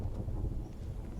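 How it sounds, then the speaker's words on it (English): Low, steady rumble of thunder rolls through the background during a tabletop role-playing game session, with faint rain texture and no speech. "Good sound cue with the thunder in the background."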